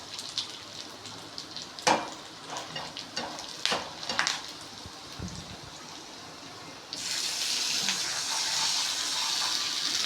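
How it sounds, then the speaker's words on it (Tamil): While rava upma cooks, a utensil scrapes and clinks in the pan, then water pours in partway through and sets off a sudden, steady rushing hiss that lasts to the end. "வாட்டர் ஊற்றியாச்சு."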